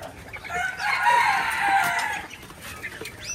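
Chickens in a hot backyard coop, including white layer hens, giving a drawn-out crowing call up close with a clucking tail.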